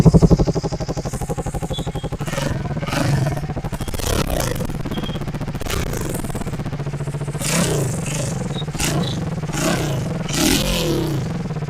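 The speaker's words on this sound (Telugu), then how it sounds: "సో గైస్, మీరు చెప్పండి ఎలా ఉంది బైక్ సౌండ్ అనేది" A Triumph Speed 400 motorcycle engine idles steadily up close, with a loud start and several sharp revs blipping above the low thrum across the stretch.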